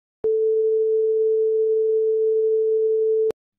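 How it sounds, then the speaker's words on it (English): A pure sine wave test tone plays back alone at a steady, loud level for about three seconds, starting and stopping abruptly with faint clicks at each end. "we've got our two sine waves, and if we just play one of them through"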